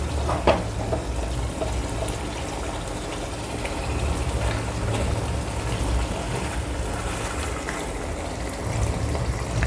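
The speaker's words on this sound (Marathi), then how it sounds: "पातळ हवं, त्या प्रमाणात पाणी घाला." Water is poured into a pot of mutton gravy (rassa), giving a continuous close gush and splash with a faint bubbling undertone that runs for several seconds, with no talking.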